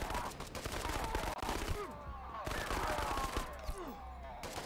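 Continuous gunfire in the video game Krankenheit, rapid dense shots rattling through nearly the whole stretch with brief gaps, fairly quiet in the mix.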